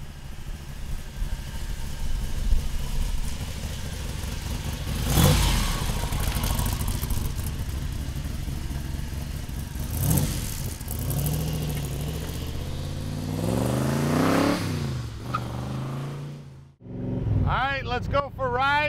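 A 1965 Shelby Cobra replica, a Superformance with a big block engine and side pipes, rumbles steadily with several sharp revving swells, loud and close, before a brief drop and a rising burst of revs at the end.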